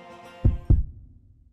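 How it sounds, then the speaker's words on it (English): Two deep, booming heartbeat thumps in quick succession, loud and isolated, then fading into a low hum, from The Witch and the Hundred Knight 2 video game. "Heartbeat."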